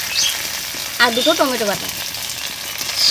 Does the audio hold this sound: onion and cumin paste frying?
yes